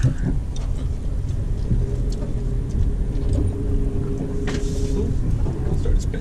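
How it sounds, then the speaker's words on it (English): Truck driving through street flooding after a hurricane, a steady low engine rumble with water sloshing and splashing under the wheels, close and continuous with no talk. "So a little bit of street flooding here. Luckily we're in a truck, so we're getting through it."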